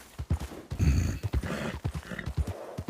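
A tired horse walks with rhythmic clip-clop hoofbeats at moderate distance, steady and slightly uneven, with faint background sounds around the steps.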